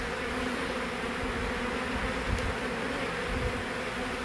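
Bees inside a wall cavity during a cut-out: a dense, continuous buzzing drone from many insects, close and steady throughout with no voices.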